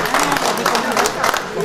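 Applause at a French federation's elective general assembly as members vote by acclamation, a steady sustained round of clapping from a crowd filling the room, fairly loud and even throughout.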